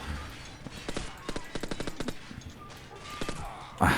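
Rapid bursts of automatic gunfire in Call of Duty 4: Modern Warfare crackle in quick volleys, moderately loud, followed by a sharper louder blast near the end, likely a grenade.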